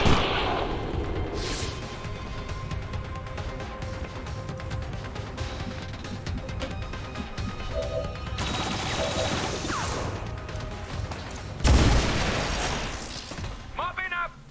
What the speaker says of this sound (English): apparently a stray shot finally detonated the thing in behind us